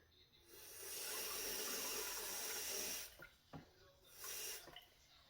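A kitchen tap running lukewarm water for bread dough, a steady hissing stream that starts, runs for a few seconds, then stops and restarts in short bursts.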